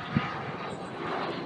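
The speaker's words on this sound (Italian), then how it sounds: "Un jet privato che atterra" A private jet landing over a hot valley landscape, its engine roar a steady, broad rumble with a slight swell toward the end, moderately loud and continuous, no voices.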